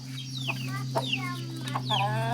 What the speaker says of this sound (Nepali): यहाँ अब कुखुरा टन्नै छन्